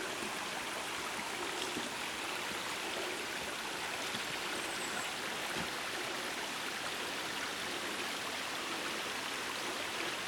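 Spring-fed stream of water flowing through a gorge near Pikes Peak above the Mississippi River in fall, a steady, continuous rushing and trickling wash with no voices.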